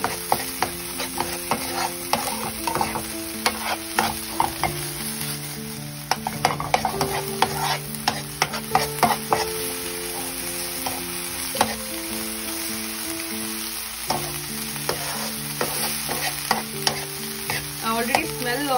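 Gobi Manchurian fries in a pan while being stirred, with a continuous sizzle and repeated clinks and scrapes of a spoon on the metal. Steady tonal hums run through the background.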